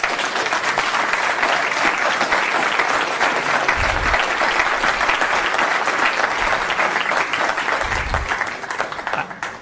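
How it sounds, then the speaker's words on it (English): Sustained, dense audience applause fills a council chamber after a presentation, steady and loud throughout before easing slightly at the very end. "that was an applause that not everybody gets after a presentation, especially of that magnitude"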